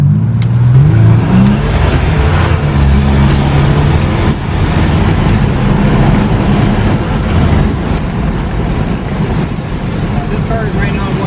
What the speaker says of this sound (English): So this car definitely accelerates very hard, and now it's on a roll